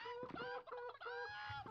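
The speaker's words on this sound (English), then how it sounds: "We hear you, chickens." Chickens in the Hand Horror Simulator video game cluck repeatedly in a busy, rhythmic run of calls. The clucking is loud and close, with a faint voice underneath.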